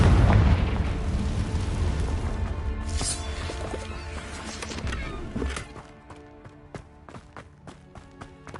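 A Confringo blasting spell explosion in the Hogwarts Legacy video game, a loud rumbling burst that fades into sharp scattered crackles and impacts with no talk.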